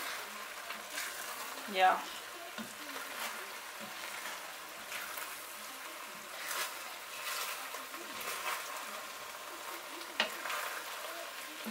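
Plov, rice with chicken, is stirred in a pot, with soft scraping and shuffling strokes and a brief sharper knock near the start, under a quiet frying hiss; a short word is spoken.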